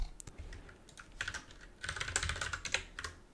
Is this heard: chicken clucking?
no